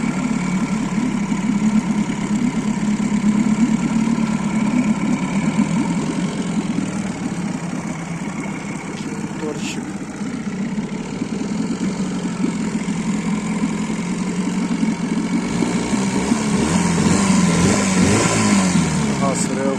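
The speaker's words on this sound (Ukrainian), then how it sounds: "Колончик працює супер, відмінно." A Johnson 4 outboard boat motor idles steadily at close range, a continuous low hum with a faint higher whine, running unbroken throughout.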